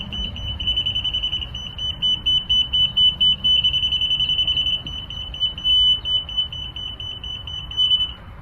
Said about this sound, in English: A slow beep means it needs to come up. A fast beep means it needs to go down.